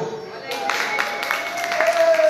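Audience clapping at a forró night in Rio de Janeiro, building from quiet into steady applause over a held musical tone, moderately loud and close.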